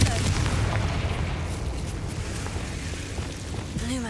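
Explosion from the Confringo fire spell in the Hogwarts Legacy video game, a heavy booming burst at the start that rumbles and fades over a few seconds.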